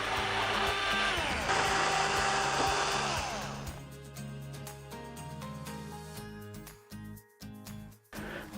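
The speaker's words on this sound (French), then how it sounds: "on peut y aller à la dévisseuse. On va enlever toutes les vis correspondant" A whirring electric screwdriver runs in several bursts, removing screws from the back cover of a Thomson television, close up, with the motor winding up and stopping in short pulses toward the end.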